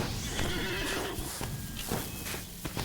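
A horse in the video game The Lord of the Rings Online whinnies loudly nearby, followed by a few clip-clopping hoofbeats against steady background noise.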